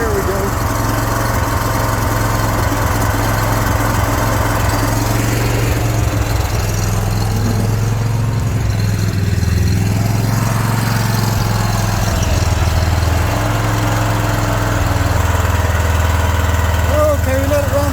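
An engine idles steadily in a freeze protection setup, a loud continuous low rumble with a slight rise and dip in pitch partway through, running alone without talk.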